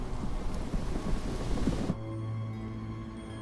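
A thunderstorm with dense, steady rain and rumbling thunder fills the first two seconds. Then it cuts abruptly to a quieter, lower drone carrying a faint sustained tone.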